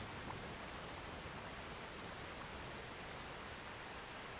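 Waterfall in a snowy canyon in Zion National Park, an even, broad rushing hiss of falling water that holds steady throughout, distant and soft with no other sounds.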